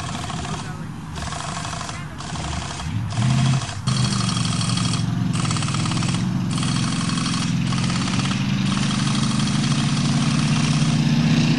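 A 1994 Jeep with a big 4.0 engine idles steadily, a low continuous rumble with a brief rise in revs partway through, recorded nearby outdoors.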